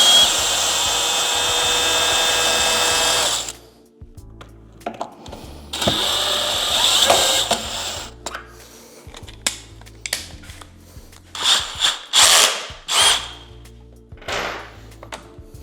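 A power screwdriver backs out the handle screws on a JBL Boombox 3 speaker: a close, steady whir for a few seconds, then several shorter bursts of motor whine with small clicks between them.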